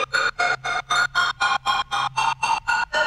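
Short repeated sample with a long reverb tail, chopped into about a dozen even pulses by ducking gain, the volume pumping rhythmically between bursts with a smeared, reverberant tone.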